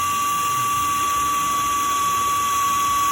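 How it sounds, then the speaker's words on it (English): A drill bit bores slowly through a panel on a 2018 Ford Mustang GT during a grille and rear deck lid replacement. The drill makes a loud, steady, high-pitched whine that runs nonstop and close up. "here and just let it drill"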